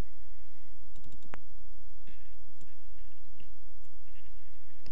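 Computer mouse clicks while choosing a photo to upload to Flickr: a few light, sparse clicks, close and faint over a steady hiss of background noise.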